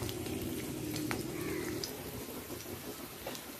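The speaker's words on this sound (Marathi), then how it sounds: "लसूण फोडणीला टाकली, लसूण ठेचून घ्यायची आपण।" Crushed garlic sizzling in a little hot oil for a fish curry, a steady soft frying hiss with faint crackles that continues evenly throughout.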